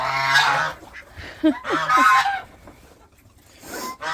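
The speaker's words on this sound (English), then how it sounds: "Geese are so loud." Geese honk loudly in several harsh, nasal bursts, some overlapping, with short gaps between the calls.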